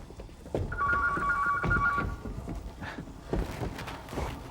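A telephone ringing once in a short electronic trill, faint under a murmur of room noise and scattered thumps, with no clear talking.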